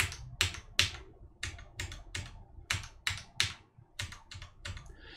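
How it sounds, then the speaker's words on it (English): Sharp, high clacks of mechanical keyboard keys without O-rings struck one at a time, about a dozen crisp presses in an uneven rhythm, close and clear with no talking. "the one without the O-ring has that much higher pitched clack on it"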